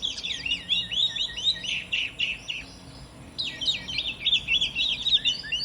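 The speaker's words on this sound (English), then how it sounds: "let's try the Oriental Magpie Robin, and let's hear some sounds. Let's hear a song." An Oriental Magpie Robin sings two bursts of rich, varied whistled phrases separated by a short pause, clear and fairly close against a quiet background.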